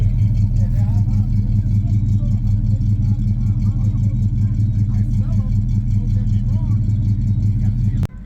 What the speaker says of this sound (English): Let's listen to this Chevelle make her sound.